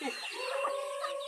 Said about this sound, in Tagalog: may mga manok na si Yaya.